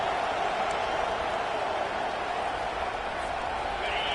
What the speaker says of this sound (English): The roar of the crowd trying to fuel this defense to keep them pinned in their own end.